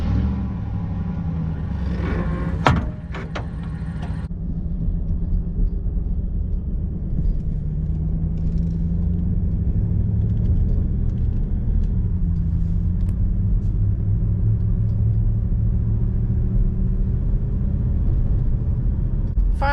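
A farm truck on the move, its engine giving a steady low rumble that holds through the whole stretch, with a brief rattle and knock near the start, heard from inside the cab.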